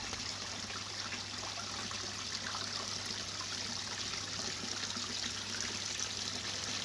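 Water from a small shower-style feature trickles steadily into a garden pond, a continuous close splashing with no talk over it.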